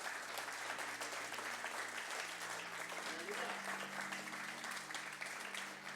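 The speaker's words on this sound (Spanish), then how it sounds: "Dale fuerte el aplauso al Señor" A church congregation claps steadily during a sermon, a continuous wash of applause heard faintly from a distance under a low, steady hum, with no clear voices standing out.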